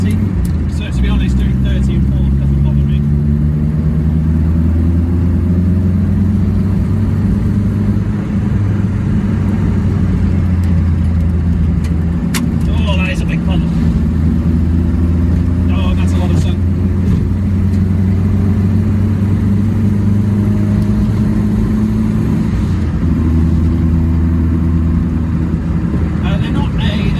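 A Reliant Robin engine drones steadily in fourth gear at around 30 mph, a low, buzzy mid-pitched hum with slight rises and falls, while someone talks over it inside the car.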